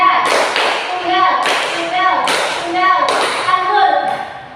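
A children's group claps together in single and double hand claps at a counselling session, producing about four bursts of clapping spaced roughly a second apart, close and fairly loud, with the claps overlapping one another.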